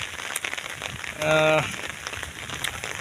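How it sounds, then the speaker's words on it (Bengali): Rain patters steadily on an umbrella with scattered drops while walking to a rice field, briefly overlaid by a short tonal sound, with some faint voice activity. "বৃষ্টির মধ্যে এই যে ছাতি নিয়ে জমিতে যাইতেছি"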